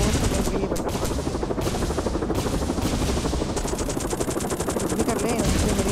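Weapon fire in the helicopter game Gunship Strike, with dense rapid machine-gun bursts rattling almost without pause over a rotor-like drone, loud and close throughout.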